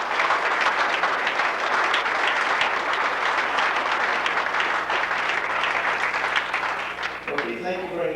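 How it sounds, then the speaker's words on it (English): Sustained round of applause from a crowd at a junior hockey league 25th anniversary event, dense steady clapping filling the room, tapering near the end as a voice begins speaking. "Could we hear a round of applause for everybody who made this part?"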